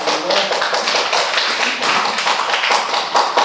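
Congregation at a prayer-retreat worship service applauding together in church, a dense, continuous wash of many hands clapping close by for several seconds with no voices.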